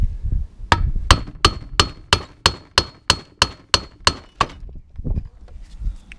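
A hammer taps a screwdriver wedged under an alloy part of a lawnmower, giving about a dozen sharp, evenly spaced metallic clinks close up.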